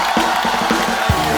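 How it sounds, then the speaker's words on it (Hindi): A television comedy show studio audience cheers and claps loudly, with whooping voices and shouts rising in short bursts over a continuous wash of applause. "पहले रेमो सर के लिए जोरदार तालियां हो जाए।"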